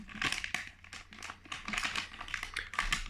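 Close, crisp crinkling and rustling of plastic packaging as soft fishing lures are unwrapped, in quick irregular bursts with light taps, and no speech.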